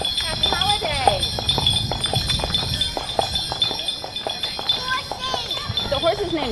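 Hooves of a horse named Midnight clip-clop in a steady rhythm at a holiday outing, mixed with jingling bells and other bright chimes, while people talk over them throughout.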